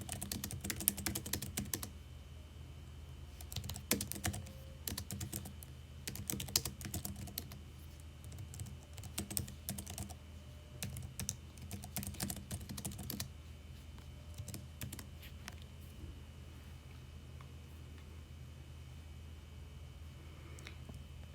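Rapid bursts of clicking keystrokes on a computer keyboard, typed in short runs with pauses between, quiet and close against a low steady hum.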